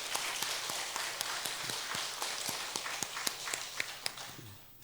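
Church congregation applauding, a scattered steady patter of many hands clapping with occasional sharper claps, moderately distant and continuous, fading out at the end.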